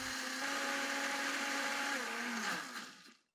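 Blender whirring at steady high speed as it purées cashews into vegan cream cheese, a loud continuous motor drone with harmonic whine that runs for about two and a half seconds before winding down and stopping.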